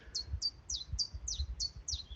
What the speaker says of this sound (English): The birds are going crazy, so that's really nice.